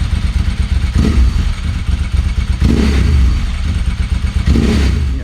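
A 2019 Suzuki GSX-S 125 motorcycle engine runs close by with a loud, steady rumble and clattery mechanical texture, rising slightly in a few swells, with no talking.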